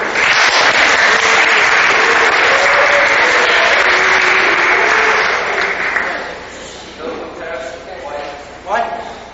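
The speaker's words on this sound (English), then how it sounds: "stop clapping for stupid things" Loud audience applause at a speech in a camp setting, dense clapping that fades after about six seconds into scattered voices and a raised speaker's voice.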